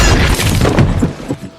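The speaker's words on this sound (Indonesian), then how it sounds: "hakim yang menangani kasus itu tewas akibat ledakan ponsel" A mobile phone exploding, heard as a loud, dense burst of crashing noise that holds for about a second and then breaks into a few scattered crackles as it fades.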